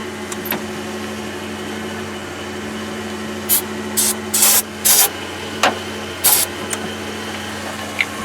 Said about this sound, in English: Spray some good amount in there.